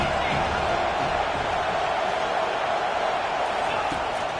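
A football stadium crowd roars steadily during a game, a dense, continuous wash of cheering that stays loud throughout without breaks.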